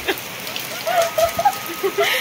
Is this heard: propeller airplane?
no